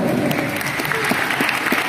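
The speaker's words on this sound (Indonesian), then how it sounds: "Tepuk tangan untuk ibu dan bapak dosen" An audience at a lecture on scientific writing claps for the lecturers, a dense burst of hand claps filling the room.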